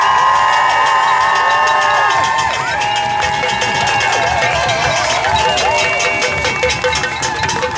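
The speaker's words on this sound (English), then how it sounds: "you're going to welcome them up here with chants and shouts and noise" Protest crowd outside the House of Lords cheering, shouting and banging, a dense loud continuous roar with whoops and rhythmic clanks throughout.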